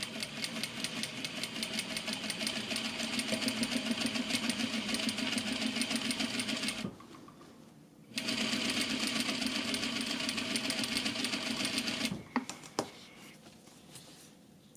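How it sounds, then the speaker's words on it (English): Sewing machine running steadily while stitching an exposed zipper into a garment, a close, continuous mechanical whir that stops briefly midway and then resumes before ending. "now I'm going to just use my regular stitching"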